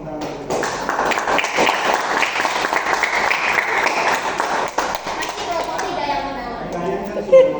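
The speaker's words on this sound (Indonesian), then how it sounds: "Beri tepuk tangan." A school class claps after group presentations, a lively burst of many young hands clapping close by with children's voices mixed in, thinning out toward the end.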